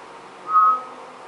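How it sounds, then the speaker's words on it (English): A character in the video game The Last of Us gives one brief, clear whistle, a single short tone over a quiet game background. "She is whistling."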